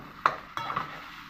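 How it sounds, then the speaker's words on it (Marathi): Cooked basmati rice stirred in a pan over low heat, two or three soft spoon scrapes with faint sizzle between them, close and quiet. "आता आपण हा शिजवलेला भात टाकूया"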